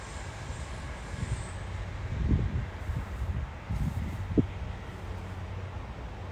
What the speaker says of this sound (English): Again, some more trains and planes flying overhead.